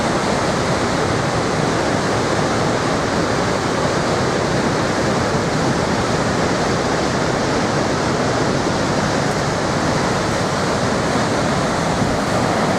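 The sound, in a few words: Niagara Falls water churning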